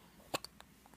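A single sharp hiccup stands out close to the microphone, followed by a couple of fainter, shorter catches in a quiet room, with no talking.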